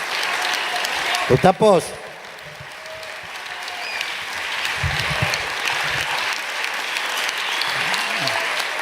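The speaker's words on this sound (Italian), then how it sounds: "Questi applausi li condivido con gli artisti di prima" Steady audience applause fills a venue during live auditions for the Musicultura 2015 music festival. Someone speaks briefly near the start, and the clapping continues evenly around a few scattered voices.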